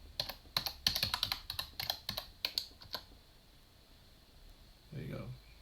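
Quick, close keystrokes clatter on a computer keyboard for about three seconds as a command is typed, then quiet, with a brief voice near the end.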